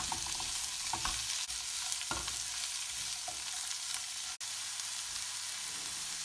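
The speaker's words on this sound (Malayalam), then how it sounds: "ഇപ്പോൾ സവാള കുറച്ച് വഴന്നിട്ടുണ്ട്" Sliced onions with coconut pieces and chopped green chillies sautéing in a pan for Kerala mutton fry, a constant close sizzle broken by a few scraping stirs, no talking.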